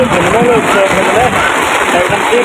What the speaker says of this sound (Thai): ฝนตกมาทุกคนเมืองพุทธิแห่พาเวท ฝนตก